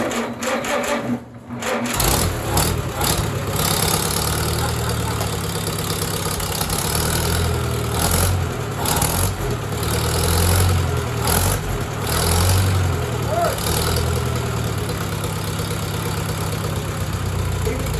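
A Farmall tractor engine with a 12-volt conversion and magneto runs steadily at half throttle, a loud, close, even chugging drone that carries on without a break.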